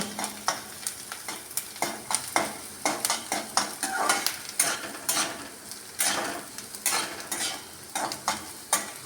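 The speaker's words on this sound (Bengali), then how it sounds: "পেঁয়াজটা প্রায় ভাজা ভাজা হয়ে এসছে একদম লাল লাল করবো না একটু ব্রাউন কালারটা আসবে সেই রকম ভাজবো" Sliced onions fry in hot oil toward a light brown, a steady close sizzle broken by frequent sharp scrapes and clicks of a spatula stirring against the pan.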